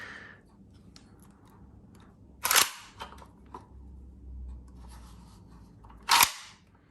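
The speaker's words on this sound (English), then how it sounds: "Charging action." Charging handle of a VFC HK PSG-1 gas blowback airsoft rifle worked by hand: two loud, crisp metallic clacks about four seconds apart, close to the microphone, with small handling rattles between them.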